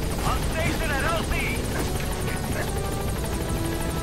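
Helicopter in Metal Gear Solid V arriving at a landing zone, a steady rotor drone running throughout under talk.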